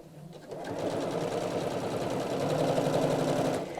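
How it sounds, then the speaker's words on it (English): A sewing machine runs steadily at close range, stitching the two edges of a rucksack together along a crease line in one continuous burst of about three seconds after a brief quiet start. "you're simply going to sew straight along that crease mark with the edges together"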